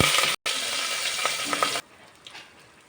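Chicken sizzling loudly in a pan with cardamom, cloves, cinnamon, shahi jeera and curry leaves, a bright steady frying hiss with a brief break, then dropping to a soft simmer after about two seconds.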